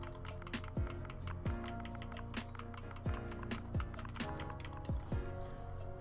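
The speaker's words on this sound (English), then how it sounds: "type in the password that you made" A password typed on a computer keyboard, a steady run of close, crisp key clicks with occasional heavier key strikes, no voices.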